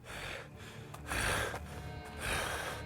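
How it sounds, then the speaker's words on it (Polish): A man sniffs hard through a congested nose, two or three close, wet snorting sniffles in a row with short pauses between them, no speech. "tak pociągam nosem, to obrzydliwe to jest"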